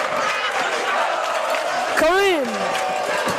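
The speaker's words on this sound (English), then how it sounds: "Xavier crowd revitalized." A high school basketball crowd at Xavier High School cheers and roars continuously after a game-tying shot, with a sharp whistle-like squeal partway through and a voice calling out over the noise.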